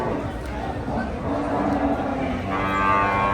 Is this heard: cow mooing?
yes